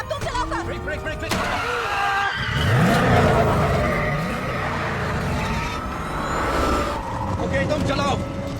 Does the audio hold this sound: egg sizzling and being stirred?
no